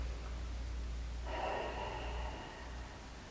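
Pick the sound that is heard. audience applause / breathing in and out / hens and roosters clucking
breathing in and out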